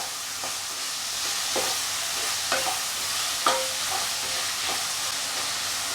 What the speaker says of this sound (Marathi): आपण बटाटा थोडंसं भाजून घेतलं आणि मग आता त्यामध्ये मीठ टाकून घेतलेलं आहे आता पुन्हा एकदा छान असं मिक्स करून घेऊया